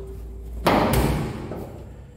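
A door in a small minimalist type 40 house opens and shuts with a sharp, close thump, then a second lighter knock about a quarter second later, fading into room noise.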